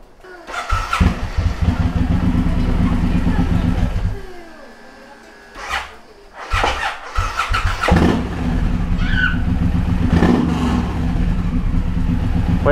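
A Suzuki M109R motorcycle engine cranks and catches, then idles loudly and revs in surges, dropping briefly before restarting and running steadily close by, with occasional voices in the background.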